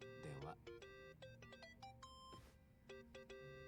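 A cellphone ringtone in Yakuza: Like a Dragon chimes in a repeating electronic melody of short tonal notes, with voices talking and a brief swoosh partway through.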